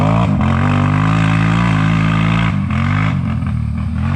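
Steady, loud engine drone of a GNCC Pro 4x4 quad at a riding camp as the rider returns, a continuous low rumble with slight pitch shifts and no pauses.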